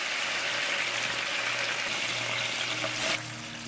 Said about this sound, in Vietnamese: Và mình chiên thêm một chút xíu nữa để cho thịt vàng xém cạnh như vậy là được ha.